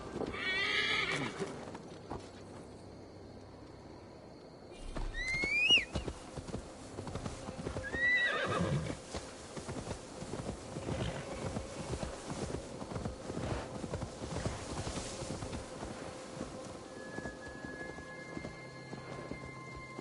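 Horse hooves clip-clop and a horse whinnies in Assassin's Creed Valhalla, with steady hoofbeats under a backdrop of rain and distant thunder, and a couple of sharp neighs early on.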